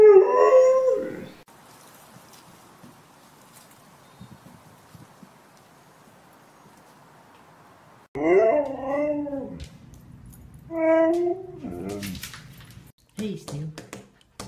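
Steel the husky howls and whimpers in drawn-out, wavering cries during a nap, several separate bursts close by with quiet gaps between, and a person's voice comes in near the end.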